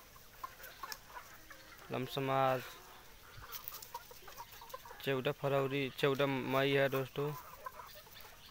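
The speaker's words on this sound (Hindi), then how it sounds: "दोस्तों देखिए, सब मुर्गे मुर्गियां" Free-range desi chickens and roosters cluck in short bursts around a farm, with someone talking over them at moderate distance.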